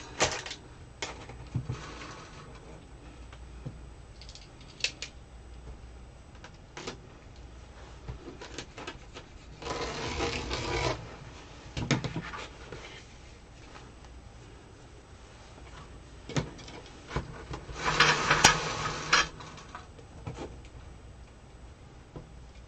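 A cutting machine slices ribbon for a patriotic mailbox swag at a setting of 25, giving steady faint ticking and mechanical clicks broken by two louder whirring bursts, with no talking.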